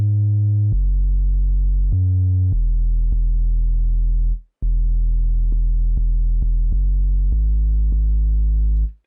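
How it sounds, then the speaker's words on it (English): A synth bass using the JP 8 triangle preset from Trillion plays a slow bass melody in an FL Studio beat: smooth, pure low tones held for long notes with short gaps, clean and solo. "for the bass, I use the JP 8 triangle preset from Trillion"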